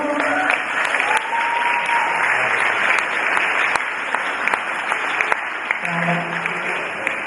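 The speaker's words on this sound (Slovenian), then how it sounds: "Dajmo jim velik aplavz za Viko." An audience claps steadily and enthusiastically for several seconds, a dense wash of applause with a few sharper claps standing out.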